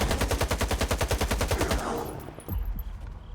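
Rapid automatic gunfire aimed at a bloodsucker mutant in the video game S.T.A.L.K.E.R. 2, a loud, close, evenly spaced burst of about twenty shots that stops and leaves a short fading tail.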